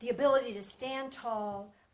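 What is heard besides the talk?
No distinct noise like a dog, phone or traffic.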